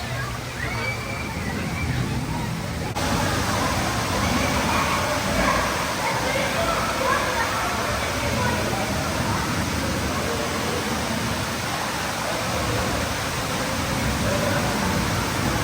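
Steady broadband sloshing and rushing water of a lazy river at Universal's Volcano Bay water park in Orlando, continuous and fairly loud throughout, with an abrupt shift in tone after the first few seconds.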